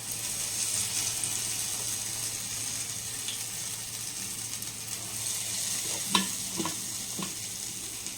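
Masal vadai batter fries in hot oil, giving a steady, soft sizzle, with a few faint clinks near the end.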